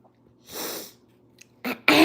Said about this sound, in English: I'm blowing my nose